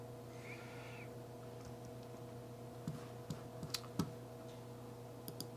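Computer mouse clicks while updating masks in editing software, a handful of faint, sharp clicks spaced irregularly over a steady electrical hum, quiet and close.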